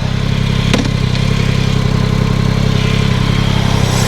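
Warm motorcycle engine idling close up, a loud steady low throbbing pulse with a brief rattle early on, holding an even rhythm without speech.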